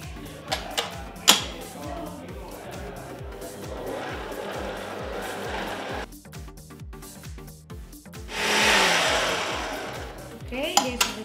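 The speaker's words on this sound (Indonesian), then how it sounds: "Mixer sebentar aja supaya dia campur aja." Electric mixer briefly blending tape (fermented cassava) cake batter, a steady close whirring hum with a few clicks at the start and a louder, brighter burst of motor noise near the end.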